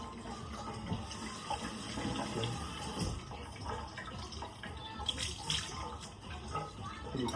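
Butterfly pea flowers are rinsed in water, with a continuous close sloshing and running splash and occasional louder swishes as they are swirled and washed, and no voices.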